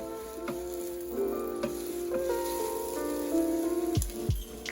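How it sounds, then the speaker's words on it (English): Egg omelette spread thin on a Blackstone E Series griddle, sizzling and frying steadily and close up, with a few scrapes of a spatula toward the end. "the secret to the big omelet, or the good omelet, is get that egg spread out nice and thin"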